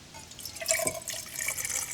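Water poured into a metal camp cooking cup, a short trickling and splashing pour with a few bright drips, close and fairly quiet.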